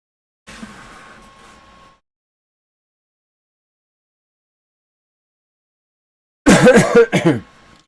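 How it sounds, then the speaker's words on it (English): A harsh, hacking cough bursts out in a couple of loud, close fits, after a quieter stretch of muffled sound and then silence. "I still have a pretty severe cough"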